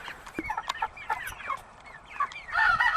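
Cornish Cross meat chickens cluck and chatter close by in a steady flock murmur, with repeated short calls and a busier burst of clucking toward the end.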